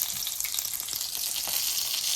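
Fenugreek seeds and other whole spices crackle and fry in hot oil as the base for a squid curry, a steady dense sizzle lasting throughout at close range with no voices.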